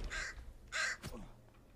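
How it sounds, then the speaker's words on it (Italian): Two loud, harsh caws from a crow-like bird in the survival game The Forest, each about a quarter second, the second slightly stronger, followed by quieter background thumps. "che uccello era quello lì?"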